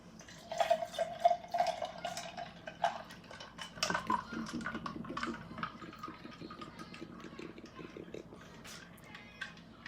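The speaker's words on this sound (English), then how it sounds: "And now I'm going to pour some in a cup," Fresh watermelon juice from a juicer is poured into a cup, with splashing and trickling liquid, a few drips and light clinks, close and fairly quiet, no talking.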